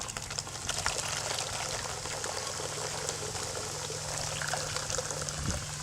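Baking soda solution fizzes and bubbles inside the cells of a dirty car battery, a dense steady hiss of tiny popping bubbles heard close and continuous, with a faint low hum underneath and no speech.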